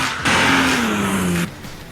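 A car engine revs hard in an animated cyberpunk chase scene, one loud sustained roar with a falling pitch that cuts off abruptly after about a second.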